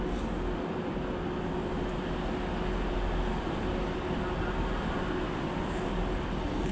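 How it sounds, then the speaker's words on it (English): A Northern passenger train arrives at Manchester Victoria station, a steady rumbling roar of wheels and engine filling the platform at moderate distance, continuous and fairly even throughout. "the next train about to arrive is the 11:15 Northern service from Rochdale to Blackburn."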